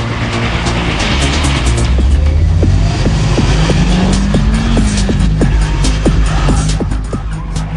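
A Honda Civic Type R EP3 with its high-revving VTEC engine screams on a slippery handling track, the loud revs climbing and falling steadily alongside bursts of tyre squeal, with no talk over it.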